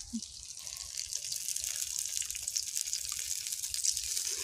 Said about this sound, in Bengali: এটা সামান্য জল দিয়ে গুলে দিয়ে দিব